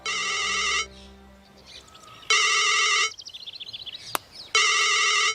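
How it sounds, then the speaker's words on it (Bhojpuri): Electronic phone ringtone in three bursts of bright, steady tone separated by quieter gaps, with faint chirpy sounds and a single sharp click between rings. "केकर फोन है?"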